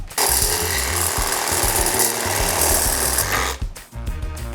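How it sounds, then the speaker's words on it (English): A Sawzall reciprocating saw cutting through a bent metal RV tongue jack, loud buzzing and rattling close by for several seconds before breaking off into shorter bursts. "in order to remove this, we're actually gonna have to use a Sawzall and cut this guy off"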